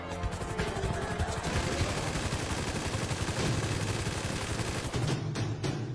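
Dense, sustained gunfire in the Free Fire video game, rapid continuous shots that are loud and unbroken for several seconds before a few separate louder bangs near the end.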